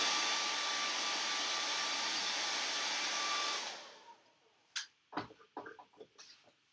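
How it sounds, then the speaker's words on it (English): A hairdryer blows steadily, loud and close, while drying Mod Podge on a wooden craft block, then shuts off, leaving a few light handling clicks and taps. "we're going to take the hairdryer to it"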